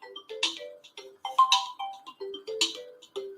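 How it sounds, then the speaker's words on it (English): A mobile phone rings with an incoming call, its ringtone playing a bright, close melodic pattern of rising and falling notes that repeats in short phrases. "Someone's ringing me from Valencia."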